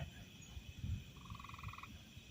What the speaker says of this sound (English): there's frogs in the pool.